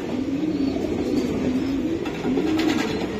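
Racing pigeons of a Herimans blue bloodline coo steadily in a loft, a low continuous warbling close by, with faint chirps and background hum and no speech.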